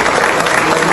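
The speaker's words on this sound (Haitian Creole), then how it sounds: "Nous tous battons bravo." A crowd applauding, dense loud clapping filling the whole moment, sustained and close with a faint murmur of voices beneath.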